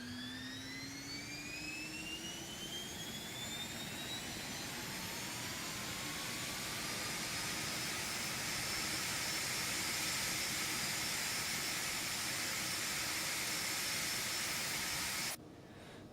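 Embraer Phenom 300 jet engines spool up in a flight simulator game, a rising turbine whine climbing over a steady roaring hiss that holds loud and continuous, then drops abruptly near the end.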